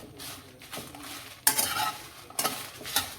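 Chillies fry in a pan with a soft, steady sizzle, broken by two or three loud, bright bursts of a spatula scraping and stirring against the metal, close up and without talk.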